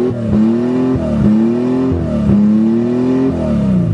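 A 1982 Toyota Cressida engine revs hard toward redline in several rising pulls, the pitch climbing and dropping between bursts, loud and close, with no talking.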